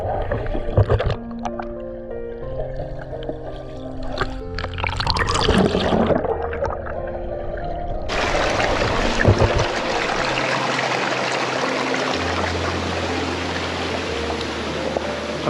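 Water splashing and churning as people bathe in a crystal-clear mountain stream at Hadapan Ella, with continuous rushing flow and irregular splashes close by, growing denser and steadier in the second half.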